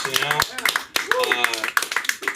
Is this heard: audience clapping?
yes